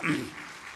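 A church congregation gives a short burst of clapping during a worship service, which swells and then quickly fades to a quiet murmur.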